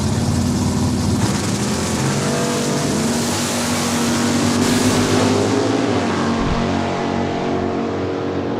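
Drag racing cars roar off the start line at Saskatchewan International Raceway in Saskatoon, a loud sustained engine blast rising in pitch as they accelerate away, then fading toward the end.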